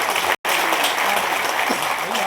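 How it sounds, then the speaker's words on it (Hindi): Audience applause at a Bhopal gathering of the Madhya Pradesh working journalists' union, a dense steady crowd clapping loud and close, cut by a brief gap of silence near the start. "आप जोरदार तालियां बजाएं।"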